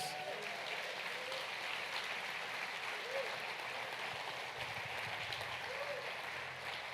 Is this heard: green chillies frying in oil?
no